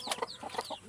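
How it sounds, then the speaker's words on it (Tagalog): Hens and their chicks in a backyard flock make a brief burst of soft clucks mixed with high, thin chick peeps, all close by. "nagsama-sama na sila guys, nalilito na yung mga sisiw kung sino ang ina"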